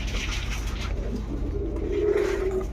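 A pair of Banja pigeons coos softly and steadily at close range, low rolling calls repeating over a constant background hum with no talking.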